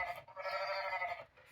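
A sheep's bleat plays from a button on a children's noisy farm sound book, one sustained wavering call lasting just over a second, fairly close and alone.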